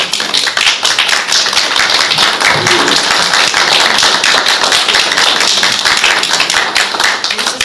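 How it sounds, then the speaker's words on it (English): Audience applause at a county board of supervisors public meeting: a loud, steady burst of many hands clapping that fills the whole stretch without a break. "Your applause is not welcome."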